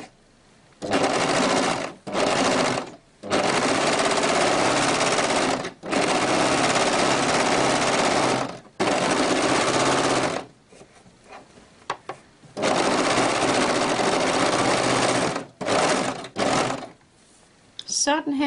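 Overlock serger running in repeated loud bursts as it finishes the edges of jersey stretch fabric for a summer top, with short pauses between runs and brief quiet handling sounds.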